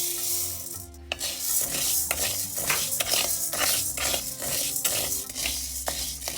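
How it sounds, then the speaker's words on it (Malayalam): Half a cup of urad dal dry-roasting in a hot pan while being stirred, giving a steady scraping, rustling rasp with regular clinks of the spoon against the pan, close and continuous. "ഇനിയും ഉഴുന്ന് വറുത്തെടുക്കുകയാണ്. ഇത് 1/2 കപ്പ് ഉഴുന്നുണ്ട്."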